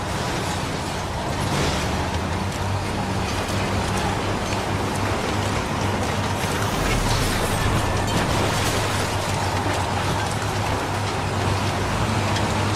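Steady rain in the video game Heavy Rain makes a constant broadband hiss over a low rumble, holding at an even loudness throughout.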